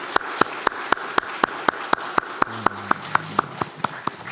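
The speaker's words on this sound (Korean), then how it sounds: "감사와 영광의 박수를 올려드리겠습니다" Sharp, evenly spaced claps ring out about four times a second in a church congregation during a Sunday morning service, steady and fairly loud, with a low sustained tone entering partway through.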